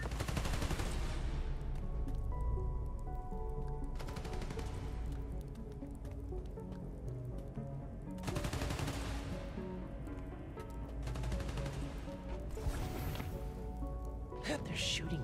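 Gunfire crackles in Spider-Man: Miles Morales, with bursts of rapid shots in several volleys over game music and ambience, loud and close.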